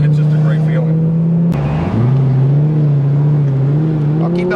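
A Lamborghini engine drones loudly from inside the moving car, with a steady low tone that breaks briefly at a gear change and then climbs again as it revs, while a voice is faintly audible beneath.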